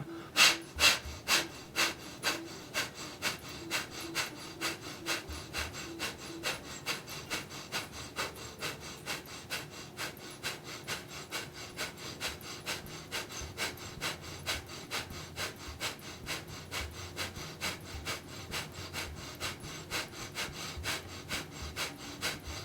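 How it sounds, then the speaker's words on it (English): Breath of Fire, a rapid yogic breathing exercise, is heard as a steady, forceful stream of quick rhythmic exhales, close and loud, about two per second and continuing throughout with no talking. "So Yoga Mudra and Breath of Fire."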